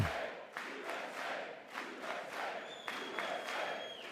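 Democratic members of Congress boo during President Trump's address to a joint session, heard as a faint, distant, sustained crowd roar that rises and falls over about four seconds.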